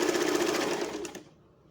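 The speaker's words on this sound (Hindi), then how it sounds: "फ्लैट सीम के लिए इस तरह से पहले सादी सिलाई करेंगे।" A sewing machine runs a plain straight seam in a rapid, even stitching rattle up close, then slows and stops near the end, with no talking over it.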